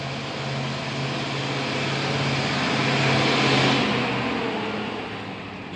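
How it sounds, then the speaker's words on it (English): A truck engine drones and rises in a steady rumble as it revs, swelling louder midway before easing off, with no talking. "you and your loud engine"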